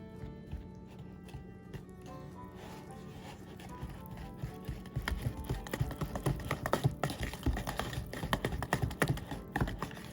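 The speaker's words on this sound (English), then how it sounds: "And now we whisk this together" Ingredients being whisked together in a bowl while baking blueberry lemon rolls, a busy run of rapid clicking and tapping strokes that grows louder and denser over the second half, with no talk.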